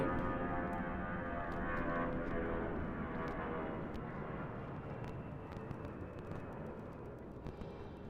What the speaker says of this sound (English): This is a good sounding departure right here.